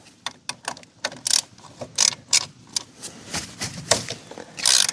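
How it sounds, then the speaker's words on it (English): A ratchet removes small bolts during a car strut replacement. Its rapid clicking comes close and loud, in short irregular bursts with brief pauses between strokes. "you got to remove all these little bolts"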